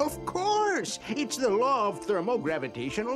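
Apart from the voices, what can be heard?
None of the usual background noises is heard.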